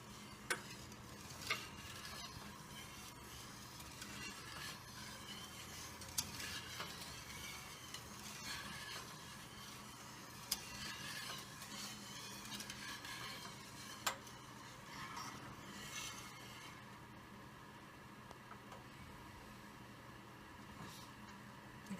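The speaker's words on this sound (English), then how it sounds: "Okay, it's starting to boil." Gravy for stuffed peppers heats in a pan until it comes to a boil, giving a soft, steady bubbling and sizzling hiss with a few faint clicks, quiet and continuous with no talking.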